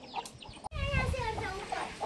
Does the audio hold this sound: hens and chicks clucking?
yes